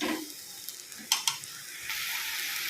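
Drumstick leaves and grated coconut sautéing in hot oil in a pan: a close hiss of sizzling broken by a couple of sharp spoon clinks and stirring scrapes, and the sizzle swells again toward the end.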